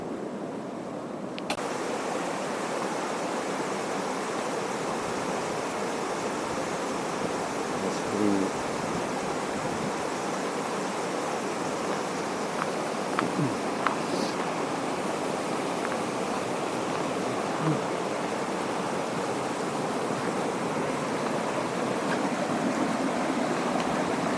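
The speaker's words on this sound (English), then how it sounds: "This has got to be one of the nicer streams that I've seen in a couple days" A mountain stream in the Great Smoky Mountains rushes steadily over rocks, a continuous broadband wash of flowing water close by with no talk, holding an even level throughout.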